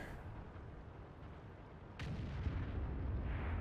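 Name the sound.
artillery fire in a video game replay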